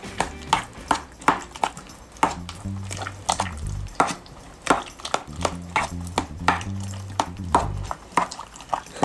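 Wet squelching and tapping as a tomato salad is tossed with soy sauce in a bowl, rhythmic irregular strokes repeating close up over a low background hum.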